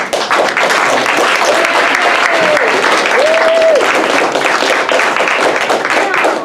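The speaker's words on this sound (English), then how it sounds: "Let's bring Dave back in with a big round of applause." Sustained audience applause and clapping fills an improv comedy show, loud and steady throughout, with a few faint tonal whistles or voices rising briefly above the crowd.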